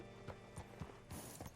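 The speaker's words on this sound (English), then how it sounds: "Hitch your horse up here." Horse hooves clopping in a game's old-West setting as a rider hitches up, a few distinct steps close by, with faint tack jingles and a low rumbling backdrop.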